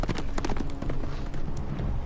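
Horse hooves gallop in a Game of Thrones video game, a rapid, close, continuous drumming of hoofbeats lasting about two seconds.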